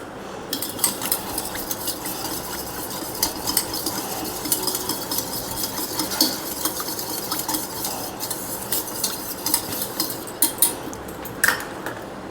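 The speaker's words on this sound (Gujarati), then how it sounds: "આ રીતે આપણે એકદમ હલાવી લઈશું અને એમાં થોડું એવું કેસર નાખીશું" Saffron milk dessert being stirred in a pot, a steady scraping and clinking of a spoon against metal with faint light sizzling, moderately close and without voices.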